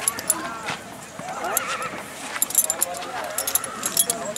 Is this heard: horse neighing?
yes